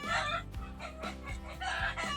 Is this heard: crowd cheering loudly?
no